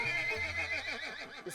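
A horse neighs in a long, wavering whinny with a pitch that rises and falls in several pulses, close and fairly loud, with no talk over it.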